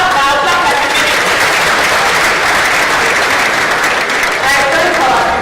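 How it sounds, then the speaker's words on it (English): A large audience at a university inaugural lecture claps loudly and continuously, dense applause filling the room throughout with no gaps. "clap now, clap at the beginning."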